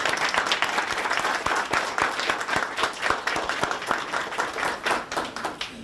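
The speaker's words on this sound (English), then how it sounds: "would you please stand up so we can give you a round of applause?" An audience at an education partnership event gives a round of applause, dense continuous clapping from many people filling the hall at steady moderate loudness throughout.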